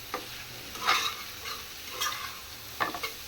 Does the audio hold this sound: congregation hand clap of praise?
no